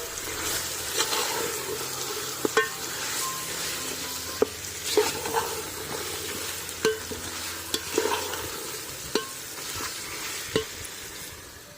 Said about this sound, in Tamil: இப்போ இதையும் சேர்த்து நல்லா அது தழையெல்லாம் வதங்குற வரைக்கும் நம்ம கிளறி விட்டுக்கலாம்